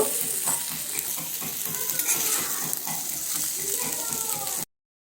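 Pieces of eggplant fry in oil in a covered pan, giving a continuous close sizzle with faint crackles and occasional clatter before the sound cuts off abruptly near the end.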